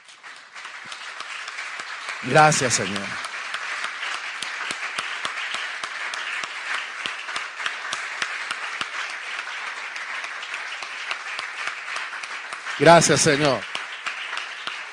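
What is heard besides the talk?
church congregation applause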